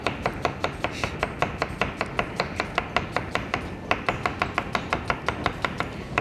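A knife chops an onion into thin slices on a board, a steady run of crisp, regular close-up cuts with a brief pause midway.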